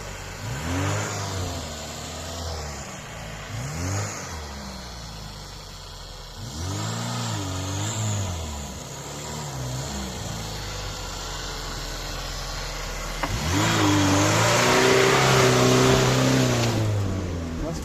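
A Lada Niva rumbles past and surges through a puddle with a swelling wet whoosh, while voices talk over the engine noise.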